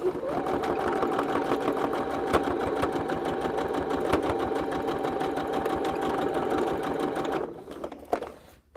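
A sewing machine stitches fabric pieces together in a steady, close, continuous whir that runs for most of the stretch, then stops near the end with a couple of clunks.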